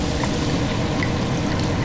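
Liquid poured into a hot pan to deglaze it while braising lamb shanks in red wine, a short steady splashing pour heard close up with no voices.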